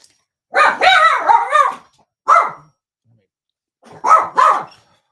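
Dogs bark in several short, loud bursts close by: a cluster of barks, a single bark, then a final pair, with silence between the bursts.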